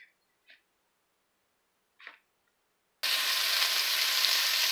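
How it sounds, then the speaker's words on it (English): Onions cooking in a pan with crushed red pepper, a few faint clicks and taps giving way to a sudden steady hiss of sizzling that continues to the end. "I got the onions cooking away in the pan."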